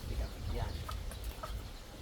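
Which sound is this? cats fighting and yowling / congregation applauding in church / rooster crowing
rooster crowing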